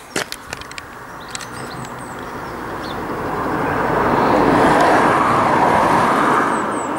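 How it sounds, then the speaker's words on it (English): A car approaches and passes outside a closed hospital site, its tyre and engine rumble swelling gradually from faint to a loud broad roar before easing away, preceded by a few sharp clicks and knocks. "And a car coming."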